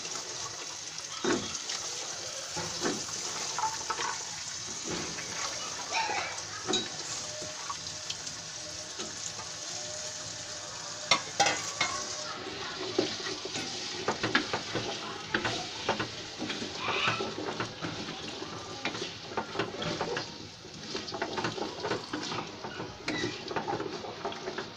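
Chopped papaya, potato, carrot and yardlong beans stir-fry with spices in a pan for Chinese-style vegetables, giving a steady hiss of sizzling under frequent scrapes and clacks of stirring throughout.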